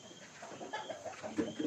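Chickens cluck softly in short, scattered bursts over a steady background hum, with one louder cluck near the end.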